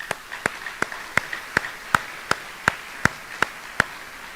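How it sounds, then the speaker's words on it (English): At a high school assembly, evenly spaced, crisp claps ring out in a slow steady rhythm over a faint background hush, fairly quiet overall. "please join me in a round of applause for the hard work of these folks"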